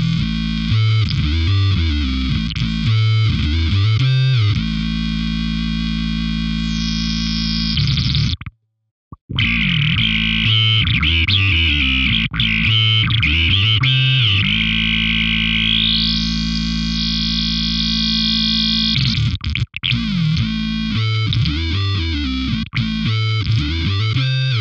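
A bass guitar plays through a Crazy Tube Circuits Deranged distortion pedal, heavily distorted and warbling, with thick fuzzy tones, sweeping modulation and one brief cut to silence partway through.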